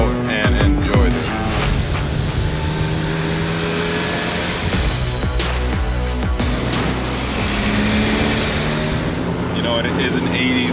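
A turbocharged 1980s Ford RS200 Group B rally car drives at low city speed, its engine a steady loud drone with brief revs and gear changes, heard from inside the car.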